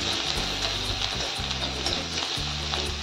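Turmeric and salt sizzle in hot oil in a pan for a vada pav potato filling, making a steady, close frying hiss with a faint low hum underneath.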